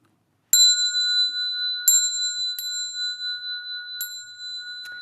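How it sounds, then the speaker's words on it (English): A small meditation bell rung at the start of a Buddhist Dharma lecture: a few clear, bright metallic strikes with long ringing tones, near and alone, with no talk. "Let me ring the bell 3 times"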